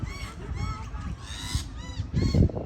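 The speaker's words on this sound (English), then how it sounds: "All the birds are trying to scare him off." Birds call loudly and repeatedly at a possum sitting up in a tree in daytime, a close series of harsh, honking cries in quick succession.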